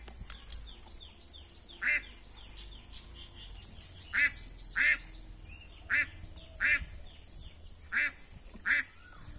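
A duck at a village pond gives about eight short, nasal quacks spaced at irregular intervals over nine seconds, moderately close against a quiet outdoor background with faint distant birds.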